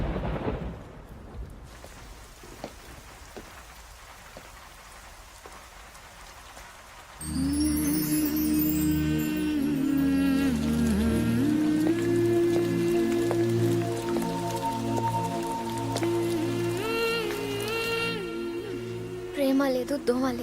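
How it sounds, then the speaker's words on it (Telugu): Rain falls during a Telugu film scene, a steady hiss at first, then continuing under loud dramatic background music for most of the stretch. "వర్షం పడుతోంది, ట్రైన్ లేటో ఏమో."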